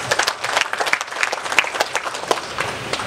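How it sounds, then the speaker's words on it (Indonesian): A crowd at a presidential hospital groundbreaking ceremony in Sorong breaks into applause, with uneven, sharp individual claps standing out from a moderate, close-by patter that holds steady for a few seconds. "Kok tepuk tangan?"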